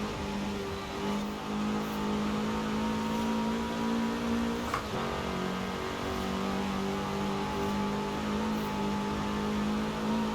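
A steady turbo Porsche 944 engine drone in Forza Horizon 4 hums at constant pitch, fairly quiet and unchanging, with a faint click midway.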